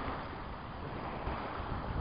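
Wind blows steadily, rumbling and buffeting against the microphone in a continuous low roar, with no voices.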